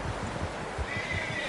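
A horse neighs in the Red Dead Redemption 2 video game, a clear whinny over steady clip-clop hoofbeats and outdoor ambience, close and fairly loud throughout.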